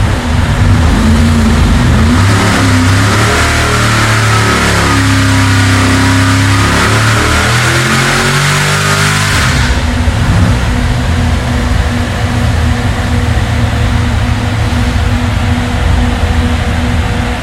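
A supercharged 6.0 LS3 V8 with aftermarket heads revs hard on a dyno, a loud continuous engine roar climbing through a long pull before dropping back to a rough, steady idle, with no talking.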